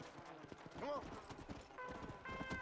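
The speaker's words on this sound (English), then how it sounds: "So now that we have got ourselves a new death horse," Horse galloping in the video game Red Dead Redemption: Undead Nightmare, a quick run of hoofbeats with a brief whinny, heard close under someone talking.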